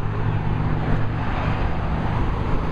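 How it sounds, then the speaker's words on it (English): Steady road traffic with cars driving past, a continuous broadband rumble and low engine hum that stays fairly loud and even throughout, with no speech. "There's so many cars."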